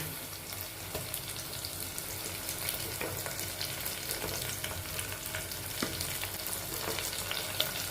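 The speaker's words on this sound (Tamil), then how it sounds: "கருவேப்பிலை போட்டு நல்லா தாளிக்கும் நல்லா தாளிக்கும்" Steady crackling sizzle of curry leaves frying in hot oil, with occasional pops and stirring noises, fairly close and continuous.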